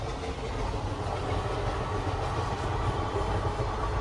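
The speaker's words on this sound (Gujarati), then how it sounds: "ટ્રેન આવી ગઈ છે" A train rumbles steadily past at close range at a railway crossing, a continuous heavy roar with faint clattering of wheels on the rails.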